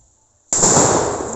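A firecracker goes off after a brief quiet lead-in, a loud, sudden burst followed by a sustained crackling, hissing roar with no voices.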